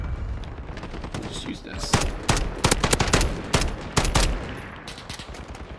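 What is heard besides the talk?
FAL rifle firing in a video game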